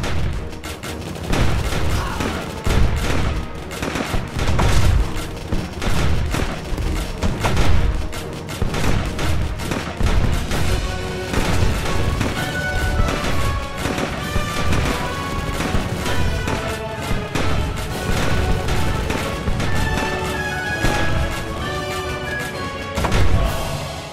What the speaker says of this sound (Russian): Способность паровой выстрел.